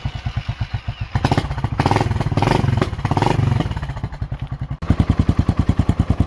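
A Suzuki Savage 650 bobber motorcycle with a straight pipe idles in loud, close, lumpy thumping pulses, briefly revs up into a denser roar, then drops back to the thudding idle.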